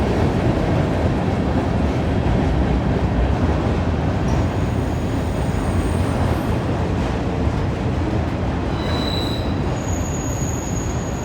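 A long Norfolk Southern coal train rolls under a trestle between West Virginia and Ohio, with a loud, steady roar of wheels and rail rumble throughout and high wheel squeals rising near the end.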